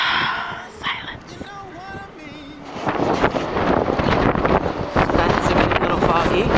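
Gusty wind buffets the microphone during a blizzard in New York City, rising from a quieter stretch into a strong, continuous roar with irregular surges.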